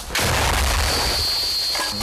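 A single heavy artillery shot fired at a front line booms loudly up close, its deep rumble rolling out and lingering for a couple of seconds.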